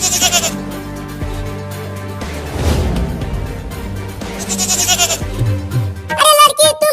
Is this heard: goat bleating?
yes